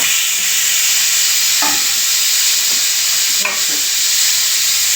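Chopped onion and green chilli frying in hot oil, a loud continuous close sizzle with a couple of faint clinks of a spoon against the pan.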